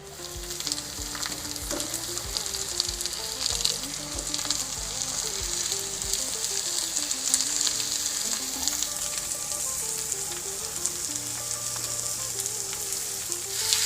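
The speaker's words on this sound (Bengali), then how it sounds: "তো এখন আমি দিয়ে দেবো এই সমস্ত সবজি কড়াইতে।" Mixed vegetables sizzle in a kadai with curry leaves, a steady, close frying hiss that continues evenly throughout, with no talking.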